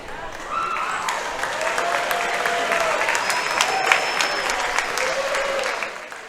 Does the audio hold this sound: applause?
yes